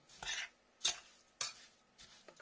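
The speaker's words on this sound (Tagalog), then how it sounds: "Haluin natin. Para ma-absorb yung sugar niya." Blackberries are stirred with sugar in a bowl for jam: four quiet, evenly spaced scraping strokes, each a short clink and swish, with near silence between them.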